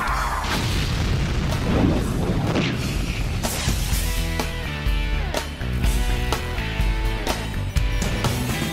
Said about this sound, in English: Wave after wave of cruise missiles hit their targets.